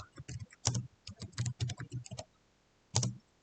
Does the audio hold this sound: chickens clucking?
no